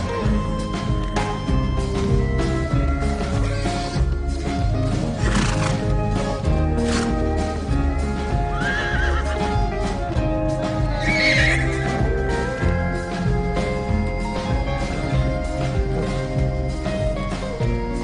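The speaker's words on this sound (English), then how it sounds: "Young bachelor stallions spend time play fighting and establishing a hierarchy amongst themselves." Young wild mustang bachelor stallions play fighting, with repeated shrill neighs and squeals over hoof clip-clops and scuffling, continuous and close.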